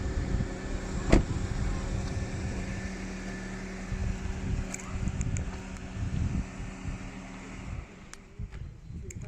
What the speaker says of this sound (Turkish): Şu an araç uzaktan çalıştı.